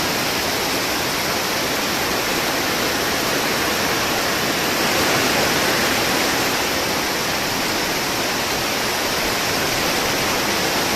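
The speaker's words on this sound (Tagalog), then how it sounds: "Pumapatak na naman ang ulan sa bubong ng bahay." Rain pours onto a house roof as a continuous, loud, even hiss that holds steady throughout with no voices.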